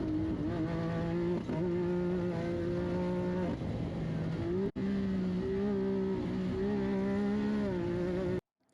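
Off-road race cars roar past one after another in a desert race, a loud sustained engine drone with rising and falling pitch as each car passes, continuous and close with no talking.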